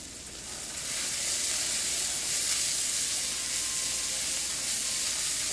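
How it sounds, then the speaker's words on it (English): Garlic crisps up in a pan, a loud continuous hissing sizzle that swells in the first second and then holds steady without talk. "That garlic is nice and crispy."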